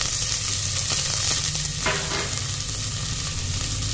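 Onion, mint and coriander sizzle loudly in hot oil for chicken soup, a dense steady crackle with a brief stirring scrape midway and no talk.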